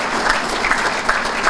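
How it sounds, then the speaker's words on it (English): A crowd at an athletic hall of fame ceremony applauds the event sponsors with dense, even clapping that fills the room without pause. "how about a round of applause for them as well?"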